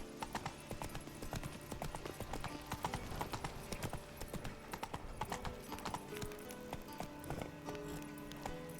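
Hooves of Roach, the horse in The Witcher 3, clip-clop in a steady rhythmic gait over continuous game music, close and fairly loud throughout.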